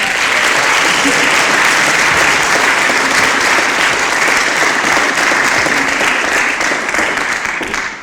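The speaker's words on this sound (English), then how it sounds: "So please, a big round of applause for Uncle Shane Charles." A large forum audience claps steadily for several seconds at a public forum on an Indigenous Voice referendum, dense and close, tapering slightly at the end.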